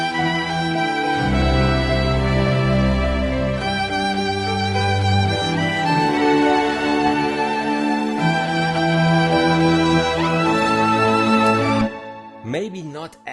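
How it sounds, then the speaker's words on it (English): Orchestral arrangement performed with ProjectSAM Lineage Strings, full sustained string chords with low bass swells and bright upper lines, loud and continuous before a brief voice at the end. "the whole thing then sounds like this if we play it with the Lineage Strings"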